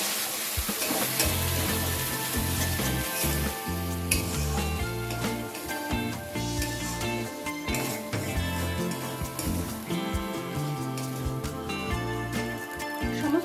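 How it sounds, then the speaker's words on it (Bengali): Poppy seed paste sizzling loudly with prawns in a pan while being stirred, a continuous crackling fry broken by scraping strokes and light clinks of the spatula. "পোস্তটা দেওয়ার পর অল্প কিছুক্ষণ একটু নাড়াচাড়া করে নেবো"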